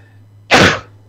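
A single abrupt sneeze-like burst, loud and close, lasting about a third of a second against a quiet background hum.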